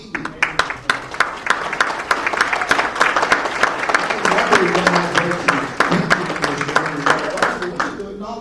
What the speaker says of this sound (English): I think we need to give our incumbent Mayor Matt White a round of applause for receiving.